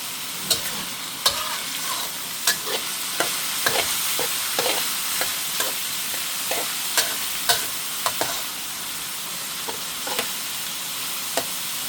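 Pork stir-fries with holy basil in a pan, a constant close sizzle broken by regular sharp clanks and scrapes of a spatula against the pan, several every couple of seconds, with no voices.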